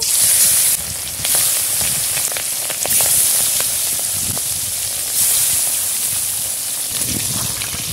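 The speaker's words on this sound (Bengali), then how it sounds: "তেল গরম হয়ে গেছে, এবার মাছগুলো ভেজে নেব।" Katla fish pieces frying in hot mustard oil in a kadai give a loud, continuous sizzle and crackle, steady throughout with small pops and stirring sounds.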